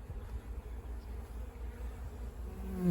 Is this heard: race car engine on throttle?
no